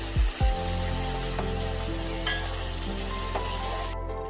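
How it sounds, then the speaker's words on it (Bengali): Cauliflower florets dropped into hot oil in a pan, with a couple of sharp knocks at the start followed by a loud, steady sizzle that continues evenly to the end. "এবার কপিগুলো এই তেলের মধ্যে দিয়ে দিলাম কপিগুলো ভালোভাবে একটু ভেজে নিতে হবে"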